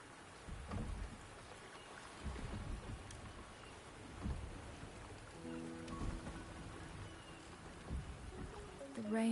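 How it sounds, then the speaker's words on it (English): Steady rain falls with low rumbles rolling underneath, a continuous wash of drops and occasional deeper thumps. "rain is subsiding, and the sky will soon clear."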